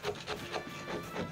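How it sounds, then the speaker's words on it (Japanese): Hard, stiff deer hide being scraped during tanning, a rhythmic series of about five rasping strokes, close and fairly loud, with no voices. "これがカチカチでね、入ってかないんですよ、この削るのが。"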